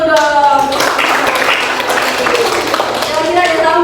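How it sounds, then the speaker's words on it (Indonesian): A room of people clapping together in a classroom, a brief dense patter of applause mixed with children's voices and a speaking teacher over it. "tepuk tangan dulu dong"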